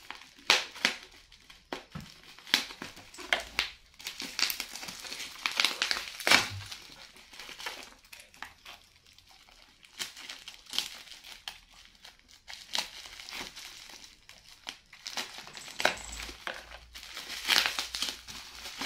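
A package of Chanel perfume from California being opened: repeated bursts of crinkling and tearing plastic and paper, close and irregular, with pauses between handling.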